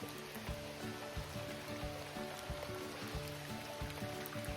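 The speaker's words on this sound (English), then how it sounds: "A little bit sheltered by the canopy from the rain." Steady rain patters down on a forest canopy in a sheltered spot within a nature reserve near a waterfall, a dense, even wash of drips and hiss that continues without a break and sits close and moderately loud.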